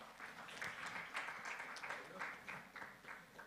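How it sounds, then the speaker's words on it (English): Audience applause at the Wavumbuzi Grand Awards ceremony, a fairly quiet, steady patter of clapping lasting a few seconds, with voices mixed in. "yes please, a round of applause"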